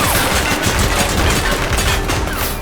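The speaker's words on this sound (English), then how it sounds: "She's shooting!" Sustained loud gunfire in The Precinct video game, a dense continuous fusillade of overlapping shots with no breaks.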